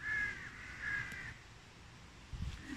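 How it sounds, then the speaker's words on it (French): Crows caw outdoors in two clear, loud drawn-out calls near the start, followed by quieter background with wind and a faint low rustle toward the end. "Vous m'entendez avec les corneilles, le vent et la mésange"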